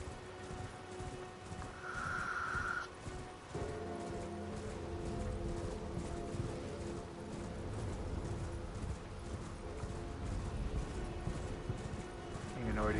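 Horse hooves from Elden Ring pound in a steady galloping clip-clop at a sprint, with a brief whinny near the start, heard over game ambience and music while someone talks.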